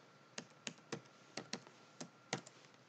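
Computer keyboard typing while entering an Excel formula: a handful of crisp, separate key clicks in an uneven rhythm, close and fairly quiet, with no talking.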